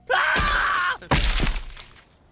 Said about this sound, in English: Franny's teacher, Mr. Harvey, crashes through a glass window